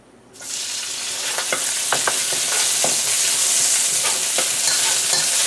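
Garlic and onions hitting hot oil for garlic pork, a loud sizzle bursting in at once and holding steady, punctuated by sharp clicks and scrapes of stirring, with no voices.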